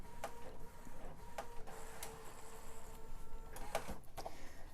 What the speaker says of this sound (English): And now it's set to print your business card